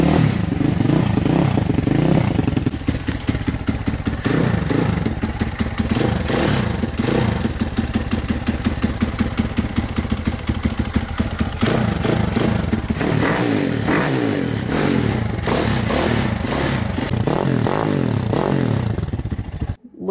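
A Top Speed Hellcat engine with a new, loosely fitted performance exhaust pipe runs loud and close for about twenty seconds, a steady throaty rumble with rapid pulsing and several rev swells, then cuts off abruptly at the end.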